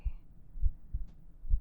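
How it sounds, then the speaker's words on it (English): A slow heartbeat thumps softly four times in a steady rhythm, low and muffled as if heard against a chest, with no talking over it. "Let mommy's heartbeat ease your worries."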